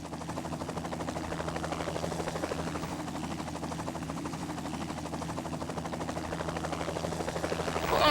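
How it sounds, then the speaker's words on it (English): Helicopter lifting off for a sightseeing tour over Antigua, a steady loud rotor chop and engine drone running throughout, building slightly louder near the end, with no talking. "Oh, takeoff is so nice and smooth."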